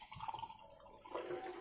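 Water is poured into a clean beaker during school soap making, a short, close, steady splashing and gurgle of liquid with no voices.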